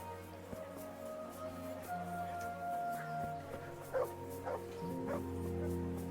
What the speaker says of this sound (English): Is Mutt barking?